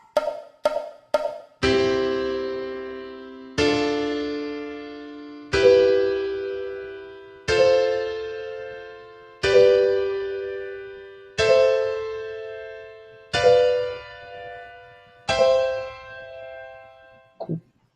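Piano plays seventh chords in European harmony: three quick chords, then five sustained chords struck about every two seconds, each ringing and slowly fading, close and clear with no talking.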